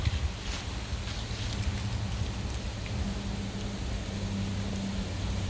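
Strong autumn wind in Gilman, Connecticut roars steadily into the microphone, a constant low rumbling buffet with broadband hiss throughout, no voices.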